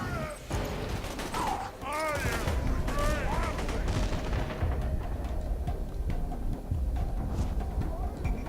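Gunfire in Borderlands 2 video game, with burst-like shotgun blasts dense through the whole stretch, layered over voices talking and other game noise, loud and continuous.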